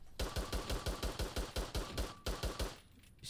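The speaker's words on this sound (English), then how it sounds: "And then the Mauser. You do get a red dot. You kind of shoot kind of fast." Mauser rifle fired in the shooter game Warface, about a dozen sharp shots in a quick, even rhythm, loud and close, ending in a short quiet tail.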